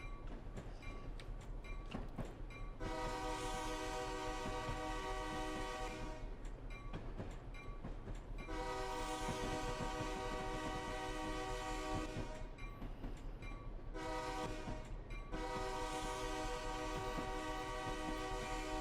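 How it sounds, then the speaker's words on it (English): A simulated Union Pacific GP38-2 diesel locomotive in Train Simulator 2020 sounds its horn for a grade crossing: long, long, short, long blasts over a low engine rumble. "Going to go ahead and sound the horn for that crossing here."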